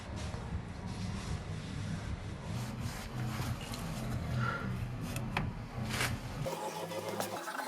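A cloth rubbing a rear brake disc dry on a Renault Scenic 3, a close, steady scrubbing and rustling swish that continues for several seconds, then breaks off abruptly near the end.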